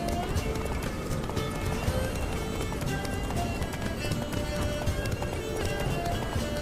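Horse galloping at a steady, dense clip-clop rhythm in The Witcher 3 video game, loud and continuous, with a voice talking over the hoofbeats.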